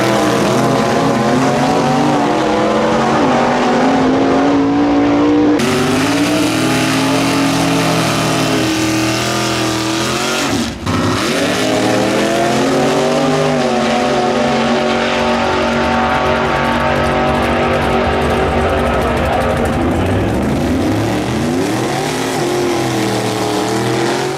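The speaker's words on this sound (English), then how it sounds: "Here are some runs down the drag strip." Engines roar continuously as kit cars, including one running 8-second quarter miles at over 150 mph, launch and rev down a drag strip, loud and close with rising and falling gear changes throughout.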